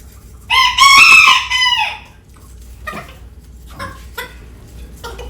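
A rooster crows loudly and close at the start, followed by a few softer clucks and scattered quiet calls from chickens.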